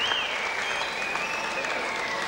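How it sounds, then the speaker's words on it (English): Steady applause from a boxing audience after a drawn heavyweight contest, dense clapping held at an even level throughout, with a faint tone running beneath it. "give both our contestants a big round of applause"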